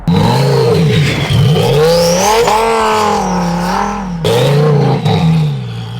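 A twin-turbo Lamborghini Huracán Sterrato revs loudly and close by, its engine note repeatedly climbing and dropping in sweeping surges with a brief dip before it rises again.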